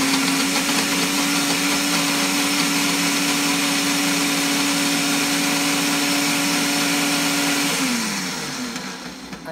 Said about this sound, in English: Now we're gonna blend that, put it on the blender.